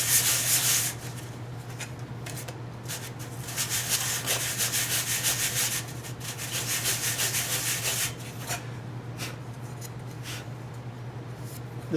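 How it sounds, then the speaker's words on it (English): A piece of wood is hand-sanded with 220 grit sandpaper, producing close, continuous scratchy rubbing strokes in a steady back-and-forth rhythm for several seconds, with no speech. "I've got some 220 sandpaper, and I'm just going to take my piece of wood and slightly sand it."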